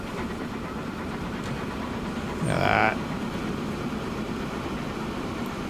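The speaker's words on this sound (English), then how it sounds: "I can hear so many trains in my back" Trains running in the Transport Fever 2 railway game, a constant rumbling engine and rail noise with one brief louder burst midway, under a short spoken remark.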